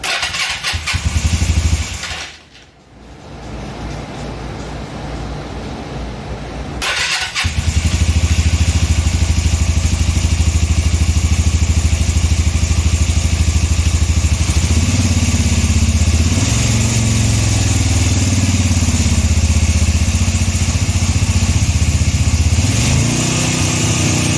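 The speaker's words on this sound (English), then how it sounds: "that was a motorcycle noise" A motorcycle engine with badly out-of-tune carburetors cranks, catches and starts for the first time, then settles into a loud steady idle with occasional revving swells.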